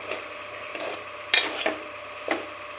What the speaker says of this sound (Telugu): ఇప్పుడు ఇందులో చిక్కుడుకాయలు అవి వేసేసుకుందాం చిక్కుడుకాయలు వేసేసుకుని బాగా మిక్స్ చేసుకుందాం